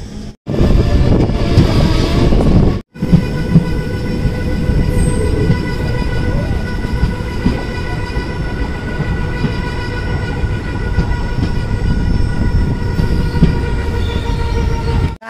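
The Chamrajnagar Express passenger train runs with a loud, continuous rumble and wind rush heard from on board. A brief dropout comes near the start, then steady rolling noise with faint whining tones carries on throughout.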